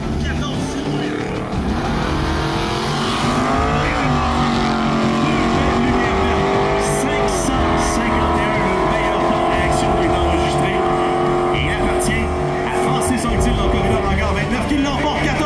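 A Camaro and a Mustang launch side by side in a drag race final, engines roaring loudly and steadily climbing in pitch through gear changes, with an announcer talking over the din.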